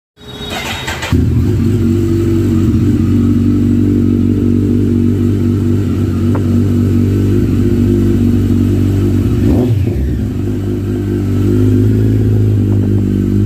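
Kawasaki sport motorcycle (ZX-10R, Ninja 1000 or ZX-14R) idling steadily with a deep rumble, loud and close, with a brief throttle change near the end; no talking.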